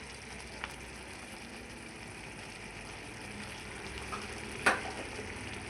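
Pieces of mutton fry quietly in a pan in a home kitchen, a faint, steady sizzle with a few soft clinks and stirring scrapes, no one speaking.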